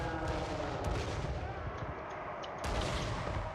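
Gunfire in a Total War: Warhammer battle of Ogres against Slaanesh, aimed at a Stonehorn: a dense, continuous crackle of many shots with a few sharper reports rising out of the din.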